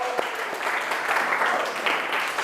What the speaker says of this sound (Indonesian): tepuk tangan buat Tristan